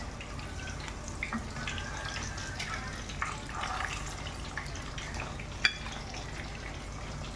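Kofta balls fry in hot oil with a faint, steady bubbling sizzle and scattered small crackles, one sharper pop near the end, in a quiet kitchen.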